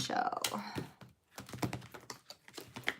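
Soft papery taps and riffling clicks of tarot cards being handled and slid into a deck, close up, mixed with some vocal sounds.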